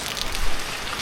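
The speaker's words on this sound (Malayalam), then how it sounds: "മഴ പെയ്യുന്നുണ്ട്." Rain falls steadily on the roof of a tall four-storey house, a dense, even hiss of drops that fills the brief moment with no voices.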